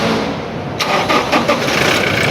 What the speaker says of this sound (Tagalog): Ayan, umandar na siya guys.